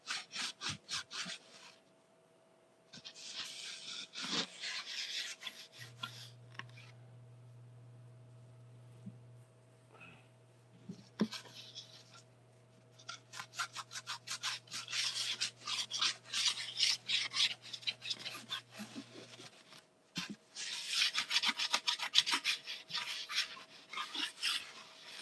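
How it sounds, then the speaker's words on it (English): Grip tape on an old Powell-Peralta skateboard is filed along its edges in repeated close rasping strokes, grouped in bursts with a quiet pause between them, and a low steady hum underneath. "I'm regripping this old board"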